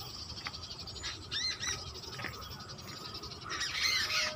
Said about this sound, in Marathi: चिमण्यांचा किलकिलाट